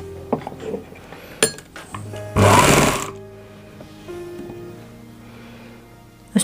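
A sewing machine stitches the cuff of a ladies' suit sleeve in one loud, rapid burst of about half a second, set among quieter clicks and light metallic handling noises.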